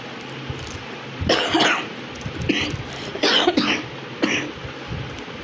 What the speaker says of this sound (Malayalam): ചുമ മാറിയിട്ടില്ല